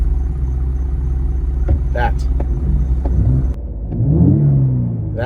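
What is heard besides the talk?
Steeda Ford Explorer ST with Thermal R&D exhaust starting up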